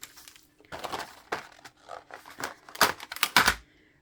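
A die-cutting machine cranks a card base through between its large plates, a close, uneven run of mechanical crunching, clicking and rattling that grows louder toward the end.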